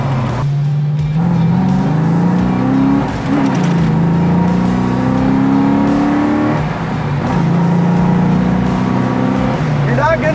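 A 1969 Ford Mustang restomod with a swapped engine pulls hard through its gears from inside the cabin, engine drone climbing in pitch with each gear and dropping at the shifts, loud and steady, with a voice talking over it.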